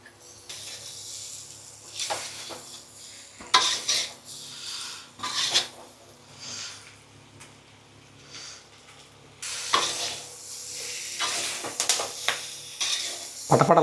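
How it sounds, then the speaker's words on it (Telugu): Curry leaves frying in a pan for a chicken fry: loud bursts of crackling and sizzling that come and go over steady background frying, with occasional scraping and stirring, close up, with no talk. "పటపటలాడుతుంటుంది కరివేపాకు."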